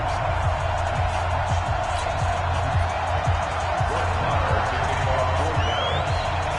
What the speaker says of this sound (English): the Patriots, introduced to this, as always, sold-out crowd as they get set to go head-to-head with Dak